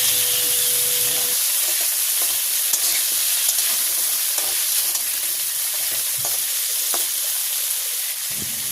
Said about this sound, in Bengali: তেল গরম হয়ে গেছে, আলুগুলো সুন্দর করে লাল লাল করে ভেজে নেব